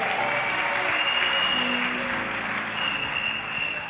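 A church congregation claps and cheers the Lord in dense, sustained applause that fills the room at a steady level throughout, with a faint voice beneath it.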